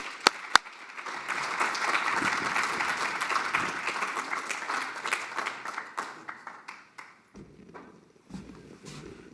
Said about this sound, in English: Can I have a hand of applause?